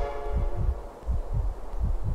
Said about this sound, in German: So, jetzt schlägt mein Herz.